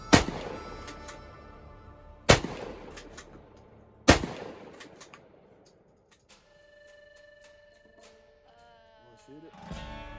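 Gunshots fired at a target on an outdoor shooting range while sighting in rifles: three loud, sharp reports spaced about two seconds apart, each with a ringing decay, followed by quieter handling noise and tones, with voices talking nearby.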